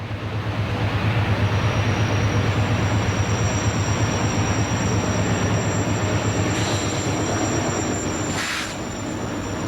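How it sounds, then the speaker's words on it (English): A Norfolk Southern manifest freight train led by a rare C36-7 locomotive rolls past at Bluefield, West Virginia, one evening in 1990, giving a steady loud rumble of engine and wheels with a high whine above it. "This manifest freight train was seen at Bluefield, West Virginia on the evening of March 28, 1990, with a rare C36-7 on the point."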